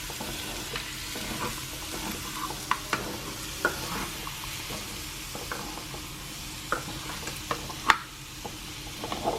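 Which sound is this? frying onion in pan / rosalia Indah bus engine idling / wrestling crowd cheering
frying onion in pan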